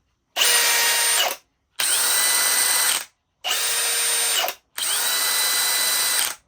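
DeWalt cordless drill whirs in four separate bursts of about a second each, with short silent gaps between them. Each burst has a high, steady motor whine, heard close and alone.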